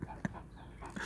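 A big, slobbery dog pants close by in short, wet, breathy puffs, quiet and brief with no voices.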